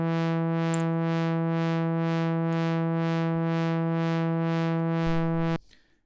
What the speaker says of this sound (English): so you can hear that our sine wave is now modulating our filter